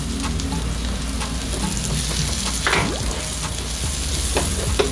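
Onions sizzle steadily in a hot pan, a loud continuous frying hiss close by, with occasional scraping strokes from stirring and no talk.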